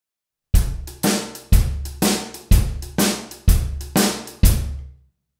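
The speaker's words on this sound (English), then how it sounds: "this is what a normal shuffle sounds like" A drum kit plays a short shuffle groove, evenly spaced punchy hits with low booming tails rolling along at a steady, bouncing pace, close and clear.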